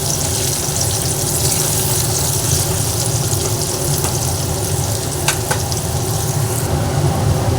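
Steady, dense sizzling of turmeric powder frying in hot oil, loud and close, continuing evenly throughout with a couple of brief clinks near the end.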